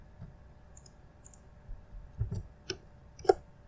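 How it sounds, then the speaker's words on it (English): Mouse clicks on a computer while running commands to fix a Windows 10 update error: a few sparse, sharp little clicks spaced out over a few seconds, faint against a quiet background hum. "make a right click, then click on run as administrator, then click on yes to allow"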